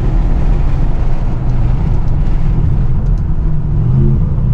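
An Aston Martin DBX SUV pulls hard under acceleration, a loud, deep engine rumble and drone dominating close up and holding steady throughout the short run, with no speech.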